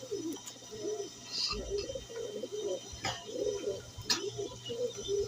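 Pigeons fighting over a nest coo in low, repeated rolling phrases, with sharp flaps and scuffles breaking in now and then, moderately close against a steady background hum.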